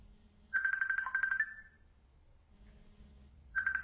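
An incoming Facebook call rings on a phone in repeated bursts of a bright electronic ringtone, with a pause between rings and a low background rumble.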